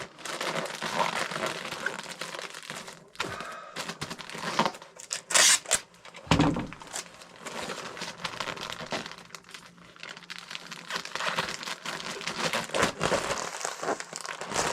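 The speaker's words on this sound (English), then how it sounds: "Get them cheap polys, but I'm just going to tape it anyway." A cheap poly mailer holding clothes is handled and taped up for shipping, with close crinkling and crumpling plastic, a few sharp rips and quieter gaps in an uneven rhythm.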